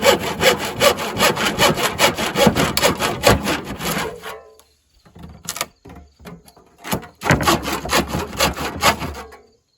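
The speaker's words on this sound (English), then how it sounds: "I'll go get the handsaw." A handsaw cuts through wood for a Subaru Impreza car camping build in close, loud, rhythmic back-and-forth strokes, pausing briefly for a few scrapes before resuming the steady sawing.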